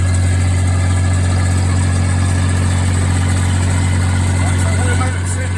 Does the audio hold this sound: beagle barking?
no